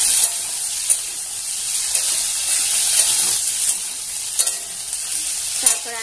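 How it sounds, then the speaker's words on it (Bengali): Potatoes and tomato fry in a pan with a steady, bright sizzle and hiss, punctuated by occasional clicks and scrapes of stirring, close up with no talking. "কিছুক্ষণ ভাজা হোক"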